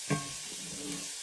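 Vegetables for a chicken pot pie sauté in a pan, a soft steady sizzle with a brief stir or clatter at the start, faint and close.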